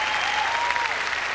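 A crowd applauds a ballroom couple after their quickstep at the 2002 IDSF Standard Championships, with dense, steady clapping filling the hall and a faint sustained musical tone underneath.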